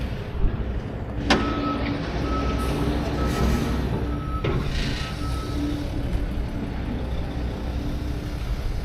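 A semi truck with an extendable step deck trailer backs in slowly, its reversing alarm beeping steadily over a constant diesel engine rumble, with a couple of sharp clanks along the way.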